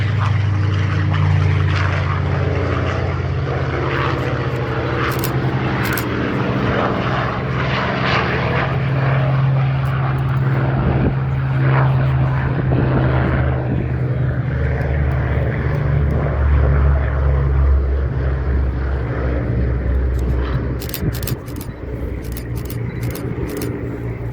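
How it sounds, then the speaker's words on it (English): Propeller fighter planes at an airshow, including Spitfires and Corsairs, roar loudly and continuously as their piston engines drone overhead. A deep steady rumble swells and fades slightly as they pass close by. "Amazing fighter planes take off and do their stuff."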